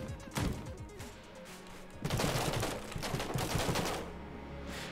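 Automatic weapon fire in the video game Enter the Gungeon: rapid bursts of gunshots in two main runs, the second longer and denser, loud and close with no talk over it.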